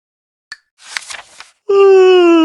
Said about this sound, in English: He stretched and yawned loudly.